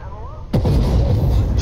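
An XM1A3 tank in Armored Warfare fires a single shot: one sudden heavy boom that bursts in and rumbles on loudly, following a quieter stretch with faint background noise.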